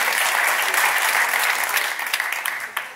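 Theatre audience applauding at a live comedy show, dense steady clapping that fills the whole stretch and thins slightly toward the end.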